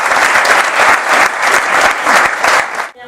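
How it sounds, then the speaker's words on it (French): Steady, close clapping from an audience at a women-in-wine-trades event welcomes the mistress of ceremonies, a dense ovation that holds evenly before cutting off abruptly. "Veuillez applaudir Madame Judith Cartron."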